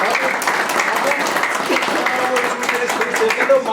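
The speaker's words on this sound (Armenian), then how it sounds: "եկեք ծափահարենք" Steady applause from a crowd at a municipal board games tournament, sustained clapping throughout with a voice faintly underneath.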